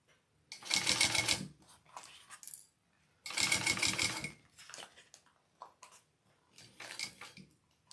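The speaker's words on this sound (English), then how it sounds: "So I'm going to start down here a little bit with the basting stitch." A sewing machine runs a basting stitch on a bag project, in two long loud bursts of rapid mechanical clatter separated by pauses, followed by shorter stop-start runs.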